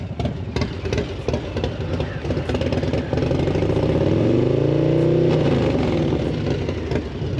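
A motorcycle with an SP Concepts Lane Splitter exhaust idles with a rough, popping exhaust, then revs up to 4,000 RPM and holds a higher steady drone before easing back down, close and loud.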